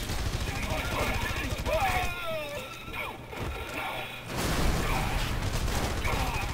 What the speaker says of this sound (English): Oh, there were a lot of explosions over there.